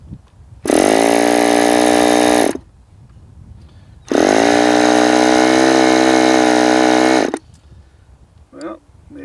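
A model airplane glow engine runs in two loud, steady, high-pitched buzzing bursts of about two and three seconds, separated by quiet gaps, with faint handling noise between them.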